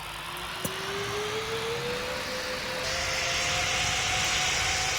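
An airplane in the PTFS flight game rolls down a runway for takeoff, a steady engine drone with a slowly rising whine that swells louder toward the end, heard alone without talk.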